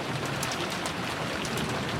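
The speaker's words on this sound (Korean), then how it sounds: "손님들 대신 비가 먼저 찾아왔네요" Steady rain falls on a farm ahead of an outdoor event, a dense, even patter of drops on surfaces throughout, with no talking.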